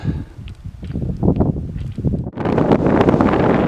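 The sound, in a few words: wind on a mountain pass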